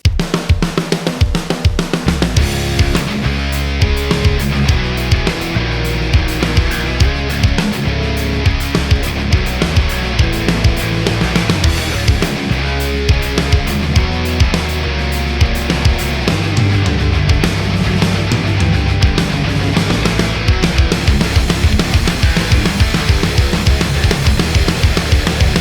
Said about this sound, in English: how to get that fat and punchy, beefy, rock and metal snare drum sound.